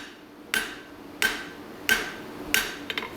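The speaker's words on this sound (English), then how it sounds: "First couple of hammer blows are dead center" Four sharp metallic hammer strikes on a steel tip being spread, evenly spaced about two-thirds of a second apart, each ringing briefly, followed by a couple of lighter taps.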